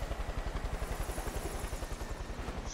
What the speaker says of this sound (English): Oh, there goes the chopper, flying into the mountains.